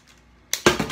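Scissors snip through a plastic zip tie on a BB gun box, giving a sharp close snap followed by brief rattling of the cardboard packaging.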